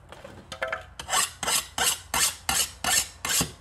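A hand file rasps across the hot, heavily oxidized scale on a hardened steel blade. After a few lighter scrapes come six or seven loud, even strokes in a steady back-and-forth rhythm, close up and with no talking.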